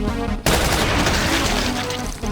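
Gunfire from the Brutal Doom video game as an imp is shot: a sudden loud burst of rapid, dense shots that fills the whole clip after a brief quiet start.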